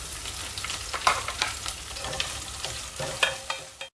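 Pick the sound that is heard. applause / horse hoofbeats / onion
onion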